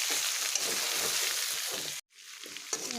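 Hot water is poured into a sizzling tomato curry in a pan with potatoes. A dense, close sizzle runs steadily, then drops off abruptly and gives way to softer bubbling and spattering.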